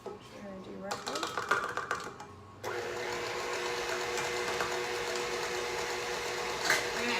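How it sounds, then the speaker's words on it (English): Electric hand mixer beating coconut oil until smooth and creamy, a steady loud motor whir running continuously after a brief stretch of softer kitchen clatter at the start. "we're gonna let this coconut oil beat up for about a minute to get it smooth and creamy"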